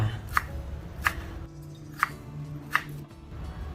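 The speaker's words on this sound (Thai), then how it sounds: "ตะคล้สองต้นทุบแล้วก็หั่นเป็นท่อนสองท่อนค่ะ" Knife chopping lemongrass stalks for a Thai herbal stewed chicken, four crisp, separate cuts spaced about a second apart against a quiet kitchen background.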